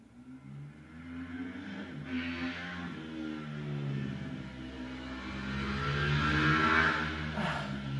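A car speeds through an intersection, its engine note climbing as it accelerates and growing louder as it nears, then falling away.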